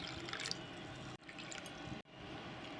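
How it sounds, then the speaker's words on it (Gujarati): Water poured into a glass of fennel (saunf) sharbat with basil seeds, a faint, continuous liquid trickle and splash, quiet and close, broken by two short gaps. "પાણી એડ કરીશું."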